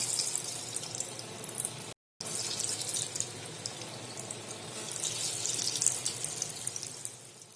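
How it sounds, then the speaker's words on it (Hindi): Moong dal pakoras frying in hot oil, a steady bright hiss and crackle of bubbling oil that runs throughout with a brief gap, close and moderately loud with no talking. "अब हम पकोड़े तलेंगे।"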